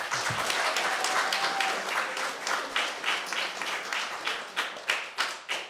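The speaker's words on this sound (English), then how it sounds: "A little bit of round of applause for these lovely folks." An audience claps for panelists after a discussion on nature and the outdoors, a full round of close, brisk applause that thins into a few separate claps at the end.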